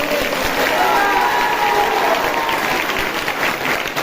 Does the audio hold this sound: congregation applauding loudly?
yes